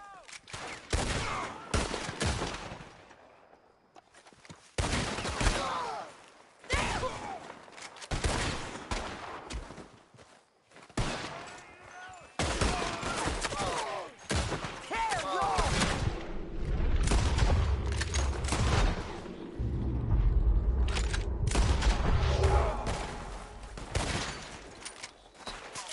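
Gunfire in the Red Dead Redemption 2 video game: repeated sharp shots and rapid volleys in clustered bursts with brief pauses, growing into denser sustained firing with rumbling booms, mixed with shouted voices.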